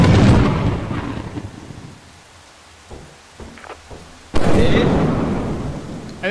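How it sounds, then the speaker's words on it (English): Thunder from a lightning strike in the video game Lethal Company, with rain: a long rolling roar fades into quieter rain, then a second sudden loud crack and rumble. "I think Wade got struck by lightning"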